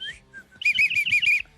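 A person whistles a quick run of five rapid, bright rising-falling notes close to the microphone, preceded by a couple of short thin tones, with no talk during it.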